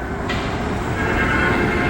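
A train approaches a grade crossing, its low rumble steady and fairly loud across the whole stretch, swelling slightly as it nears, with no voices over it.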